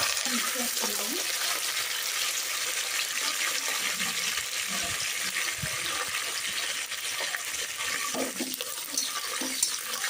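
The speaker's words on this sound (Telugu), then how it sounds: "ఫస్ట్గా కరివేపాకు వేసుకుందామండి" Curry leaves frying in hot oil in a pan on a home stove, a steady bright crackling sizzle with faint stirring clatter underneath.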